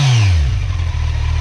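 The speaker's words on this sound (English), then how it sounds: "Let's rev it up, let's have a listen." A Kawasaki Z900 motorcycle on its stock OEM exhaust revs up sharply, then drops back to a steady, throaty idle, close and loud.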